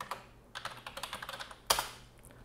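Computer keyboard typing at a desk while entering a Linux network restart command: a quick run of soft, close keystroke clicks with one sharper key press near the end, quiet and without talking.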